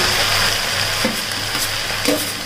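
Masala with tomato frying in oil in a pan with poha, giving a steady, close sizzle throughout, broken by a couple of soft stirring scrapes.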